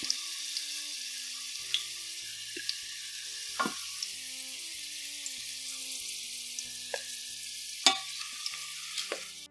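Potatoes sauté in hot oil in a pan, a steady sizzle with occasional clicks and scrapes of stirring, close and alone, with soft music underneath.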